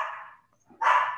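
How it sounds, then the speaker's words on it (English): A dog barks outdoors near lawn care work, two short, fairly faint barks separated by a brief pause. "I have a dog barking here because I have lawn cares here"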